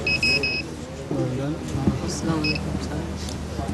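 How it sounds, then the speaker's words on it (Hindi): Electronic buzzer alarm on a blind person's walking stick fitted with an obstacle sensor, sounding a few short repeated high beeps at the start and again near the middle, over steady background chatter. "30 सेंटीमीटर के फासले में कोई चीज़ आ जाती है तो ये अलार्म हो जाता है।"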